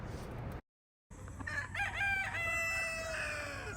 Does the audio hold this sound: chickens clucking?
yes